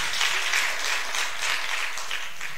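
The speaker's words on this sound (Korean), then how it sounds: "우리 동안이 일어나면 박수 한번 쳐주세요" Audience applause breaks out for a young Marine home on leave, a steady dense wash of clapping filling a hall at close range, with no talking over it.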